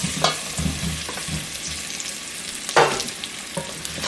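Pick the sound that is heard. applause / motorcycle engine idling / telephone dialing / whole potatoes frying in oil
whole potatoes frying in oil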